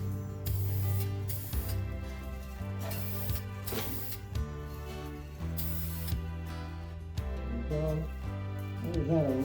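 A paint spray gun hisses in several short bursts onto masking paper as a test pattern, with brief pauses between, over a low mechanical hum.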